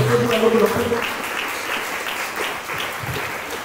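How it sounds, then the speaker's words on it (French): A church congregation breaks into steady applause, a dense wash of clapping that holds throughout, with a voice speaking briefly at the start. "Est-ce qu'on peut acclamer pour le Seigneur?"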